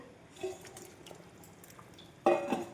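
Fish drops into a pan of cooking green banana, landing with a sudden wet clatter and sizzle after soft utensil scrapes and gentle bubbling.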